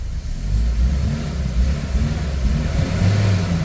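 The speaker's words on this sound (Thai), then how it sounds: "นี่เครื่องยนต์เดินนิ่งนะ เบิ้ลด้วย" A car engine with a starting fault runs close by with a low steady rumble, rising in brief revs now and then before settling back to idle.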